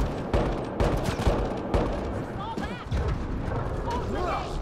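Gunfire crackles through a firefight in the video game Mass Effect: Andromeda, loud bursts of rapid shots and heavier blasts overlapping continuously, with voices talking amid the shooting.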